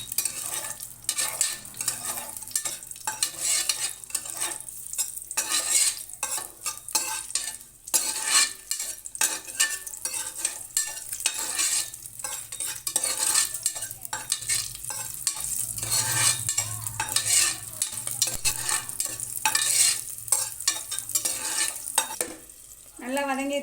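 Cinnamon, cloves, star anise, green chilli, cardamom, cashews and bay leaf fry in hot oil for tomato rice, with a loud continuous sizzle broken by frequent close stirring and scraping strokes throughout, and no speech.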